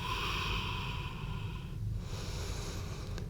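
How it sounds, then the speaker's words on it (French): Slow, deep breathing during a yoga bridge pose, a steady breathy rush of air close to the microphone, with one exhale fading into the next and no speech. "Et toujours cette respiration, quoi qu'on fasse."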